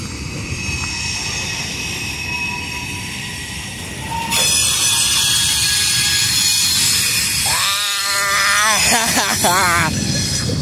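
A passing CSX freight train rumbles loudly, then its wheels let out wavering high-pitched squeals on a curve of former B&O track in Deshler, Ohio, close and piercing.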